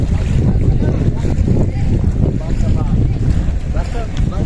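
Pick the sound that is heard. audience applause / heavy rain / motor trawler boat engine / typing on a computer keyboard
motor trawler boat engine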